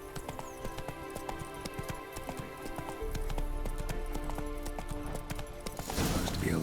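Roach, a horse in The Witcher 3, gallops with a steady, rhythmic clip-clop of hooves, close and clear, shifting to heavier hoofbeats partway through amid light game ambience.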